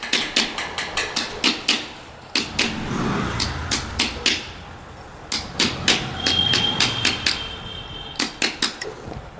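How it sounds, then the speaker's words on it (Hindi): A seal is hammered into a TVS Apache RTR 180 engine with quick bursts of sharp metallic taps in rapid series, pausing briefly between runs, loud and close with light workshop rustle underneath. "तो सील कुछ इस तरीके से आपको आसानी से ठोक लेनी है।"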